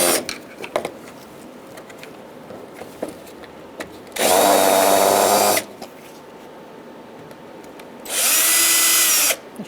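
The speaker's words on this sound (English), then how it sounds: "We're going to use a Phillips head screwdriver or drill and take out our clips for this." A power drill backs the plastic retaining clips out of a 2010-2013 Kia Soul 2.0L radiator, with two loud, steady whirring bursts of about a second and a half each, separated by quieter rustling and handling noises.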